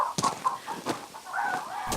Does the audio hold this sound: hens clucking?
yes